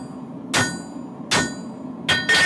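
Light hammer blows planish metal in a cold workshop: three crisp ringing strikes spaced about a second apart, then a quick double strike, each with a short metallic ring over a quiet background.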